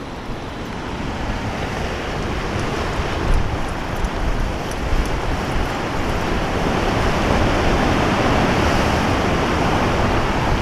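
Broad, constant roar of ocean surf at Depoe Bay with wind buffeting the microphone, loud and continuous with no voices.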